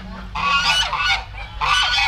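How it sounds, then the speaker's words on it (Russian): Grey geese at a farm honk loudly and close by in two long bursts of nasal calls, with a low hum running underneath. "Кто там га-га говорит, Денис?"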